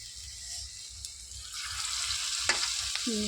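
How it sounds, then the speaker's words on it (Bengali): Onion fritters (piyaji) frying in hot oil in a kadai, a close steady sizzle with a crackling burst midway as batter drops into the oil, plus a soft low hum underneath. "এবার দিয়ে দেব কড়াইতে তেলটাও গরম হয়ে গেছে"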